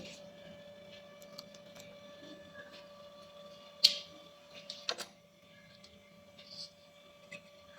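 A knife cuts aloe vera leaf into small pieces, giving a few scattered, faint taps and clicks against a board over a quiet background with a low steady hum.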